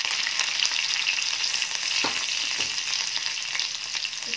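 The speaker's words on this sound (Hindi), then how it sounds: "तो हरी मिर्च डाल रही हूँ इसमें।" Chopped green chillies frying in a pan give a steady, loud, close sizzle with a couple of brief stirring knocks, and no voice.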